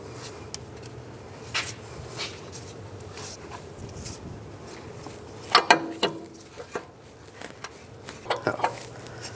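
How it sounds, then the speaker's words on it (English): CV axle being slid out of the front hub of a 2005-15 Nissan Xterra during lower control arm work, giving scattered metallic scrapes and clunks, with a cluster of sharper knocks partway through, close and fairly quiet. "we can try to slide this axle out"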